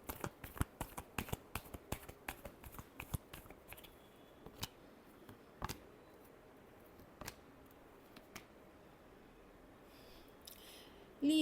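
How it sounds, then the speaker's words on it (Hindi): Tarot cards being shuffled, a rapid run of crisp papery riffles and snaps that thins out into a few scattered flicks, with a brief rustle at the end. "Last shuffle."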